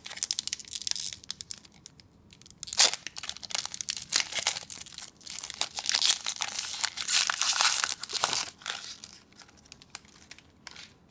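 A Kaladesh Magic: The Gathering booster pack wrapper is torn open by hand, with crinkling and ripping foil plastic in a string of sharp, close bursts, louder in the middle, with no talk.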